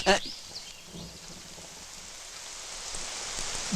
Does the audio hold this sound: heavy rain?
yes